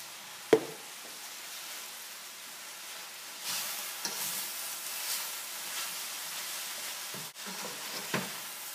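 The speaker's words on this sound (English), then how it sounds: "start getting your onions and your ham hocks and your garlic mixed in with your kale" Onions, ham hocks, garlic and kale sizzle gently in a pot over medium heat as they are stirred together, with a steady soft hiss broken by a few knocks and scrapes and no talk.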